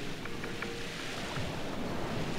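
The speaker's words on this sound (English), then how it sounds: "What turbulent water." Turbulent ocean water in the Paper Mario TTYD video game, a steady broadband wash of surf and churning waves with a faint wind-like hiss, continuous and moderately loud with no talk.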